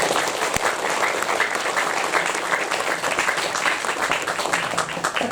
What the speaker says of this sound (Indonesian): Coba biar tidak tegang, tepuk tangan sendiri